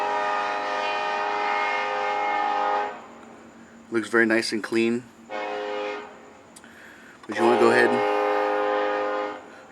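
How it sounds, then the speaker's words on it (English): A passing train sounds its horn in long sustained blasts from about 0 to 3 seconds and again from 6 to 9.5 seconds, loud and steady, while a person talks over it during work on a Honda Accord timing belt and water pump job. "stupid train."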